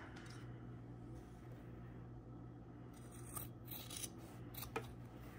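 Scissors trim a fabric waistband during garment sewing, with a few quiet close snips and rubbing of cloth over a steady low background hum.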